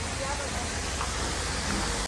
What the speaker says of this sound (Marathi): इकडे मस्त सुंदर असं वॉटरफॉल आहे इथं